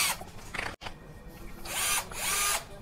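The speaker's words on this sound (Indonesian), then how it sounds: "Kita akan coba untuk bor tembok." Bosch GSB 120 Li cordless drill in hammer mode at speed 2 boring into a wall, a loud whining, rattling burst, a brief stop, then two longer sustained drilling runs.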